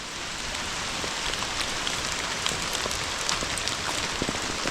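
Heavy rain pouring steadily at an off-grid cabin, a dense continuous hiss of drops striking surfaces with scattered close patters, no voices.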